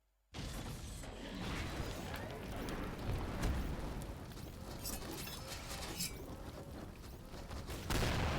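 Bazooka fire aimed at the sky in a shooting video game, a dense, continuous barrage of blasts and crashing impacts filling the whole stretch, loud and close with no pauses.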